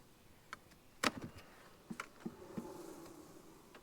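Honey bees buzz inside a crowded hive box, a faint, soft hum broken by a few sharp clicks and knocks close by.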